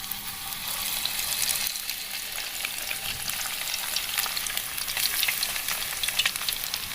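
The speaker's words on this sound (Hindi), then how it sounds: "अब इसके अंदर सूजी डाल देते हैं जो हमने भिगो के रखी हुई। आहिस्ता आहिस्ता करके डालेंगे।" Soaked semolina goes into caramelized sugar in a hot pan and is mixed, making a loud steady frying hiss with wet bubbling and crackle that swells slightly toward the end; nobody speaks.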